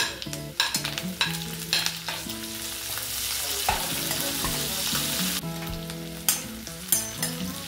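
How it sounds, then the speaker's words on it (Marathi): Green chillies and curry leaves crackle and sizzle in hot oil for an okra dish, with scraping stirs and a few clinks, under steady background music. "यात आपण थोडं लाल होईपर्यंत फोडणी ही परतून घेऊ"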